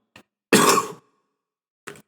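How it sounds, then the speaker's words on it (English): A single short cough, close and sharp, with faint breaths or small throat sounds just before and after. "First time I cough, right?"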